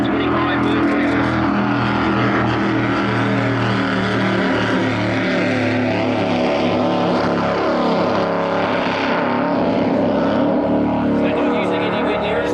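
Loud, roaring offshore powerboat engines racing at full throttle on Lake Macquarie, Australia, a continuous deep mechanical drone with shifting pitch throughout.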